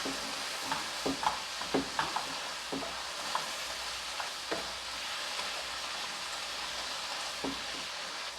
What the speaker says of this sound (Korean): 고추를 이제 간이 배도록 이렇게 졸이는 겁니다